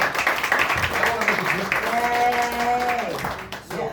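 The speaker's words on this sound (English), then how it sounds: "You should all give yourself a round of applause" Audience at a community meeting on red flag laws breaks into applause, a dense patter of clapping mixed with a voice talking over it, fading out toward the end.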